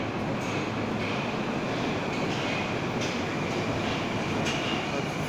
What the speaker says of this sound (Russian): Сюда поезд подошел в обратном направлении